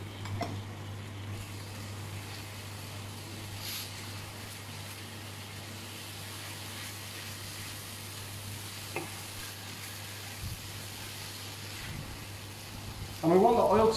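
Soy sauce and sesame oil hiss steadily in a hot frying pan, a soft continuous sizzle under a low kitchen hum, with a brief louder clatter near the end.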